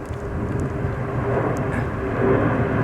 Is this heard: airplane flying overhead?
yes